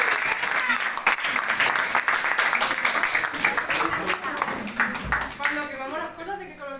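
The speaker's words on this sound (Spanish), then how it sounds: "Un aplauso." Lively audience applause at an open-house science demonstration with magnesium, many hands clapping loud and close for several seconds, then thinning out as voices and other noises come through near the end.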